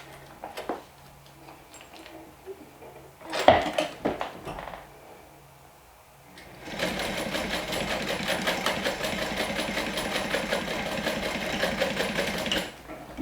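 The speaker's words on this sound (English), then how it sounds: "I'm going to add the swivel clip to one side and stitch it down." A sewing machine stitching down a swivel clip on a beginner bag pattern, a fast steady needle chatter running for about six seconds after some handling clicks and rustling of the fabric.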